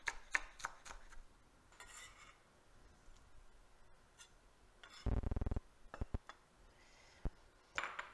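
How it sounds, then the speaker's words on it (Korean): A kitchen knife slices a bell pepper on a cutting board into thin rounds, giving a quiet scatter of light taps with a brief run of rapid, louder chopping strokes near the end. "그래서 이렇게 송송 썰어 주시고."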